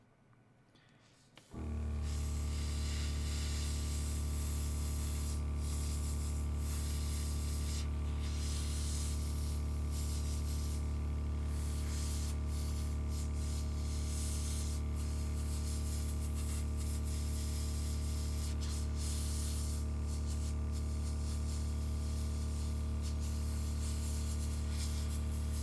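Lacquer being sprayed onto a scale model, a steady, close hiss from the spray gun that starts suddenly and runs continuously over a constant low compressor hum.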